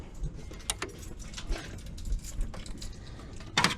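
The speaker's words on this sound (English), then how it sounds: "We'll just grab a couple keys." A couple of keys are grabbed from a set, giving a few short metallic jangles and clinks close by, among quiet handling noise during a lockpicking session with cheap interconnected locks.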